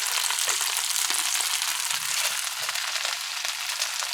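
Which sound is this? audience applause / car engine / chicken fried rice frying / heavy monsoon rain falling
chicken fried rice frying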